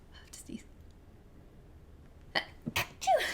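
A sharp, close sneeze bursts out near the end after a near-silent stretch, preceded by a soft breathy sound.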